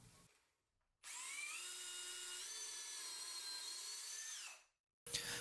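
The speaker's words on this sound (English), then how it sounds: "I needed to mark the location of the top and pre-drill it in place" Power drill pre-drilling holes through a wooden guitar top set in place on the body, one sustained high whine of about three and a half seconds that shifts pitch slightly, then stops, followed by a brief start of another burst.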